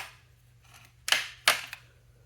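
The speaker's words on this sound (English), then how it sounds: "the bolt's just a little sticky sliding in there" Bolt of an M1917 Enfield rifle, stiff with hardened old grease, sliding in the receiver: a soft scrape, then two sharp metallic clacks about half a second apart and a small trailing click, close and fairly quiet.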